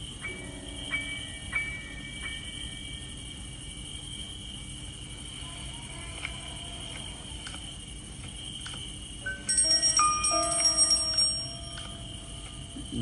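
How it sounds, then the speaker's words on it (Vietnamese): In the horror game Granny, a bell rings out in a short, bright jangling burst late in the scene, after a long stretch of quiet ambient tones and faint scattered clicks. "phải đánh động lại chiếc chuông"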